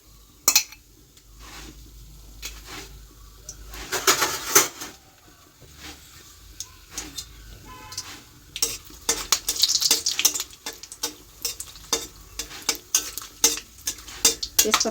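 Whole cumin, a dried chili and whole garam masala frying in hot oil in a home kitchen, a soft steady sizzle broken by repeated clinks and scrapes of a spoon stirring against the pan.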